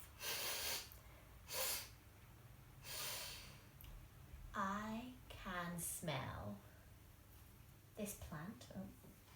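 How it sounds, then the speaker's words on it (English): Several deep sniffs and breaths close to the mic, with breathy inhales and exhales spaced out in a quiet room. "So have a really good sniff."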